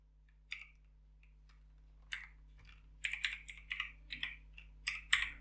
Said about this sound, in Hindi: इसके अंदर अगर मैं टाइप करता हूँ